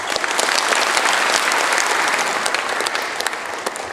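Advisory council members at a launch ceremony at the Blue House applaud in a loud, dense, continuous burst of clapping from a large indoor crowd, sustained throughout with no talk.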